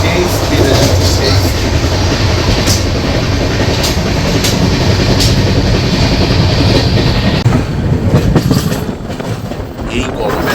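The 13038 Kumbh Express runs at speed between Haridwar and Howrah, with a loud, steady rumble and rhythmic clatter of wheels on track that eases slightly near the end.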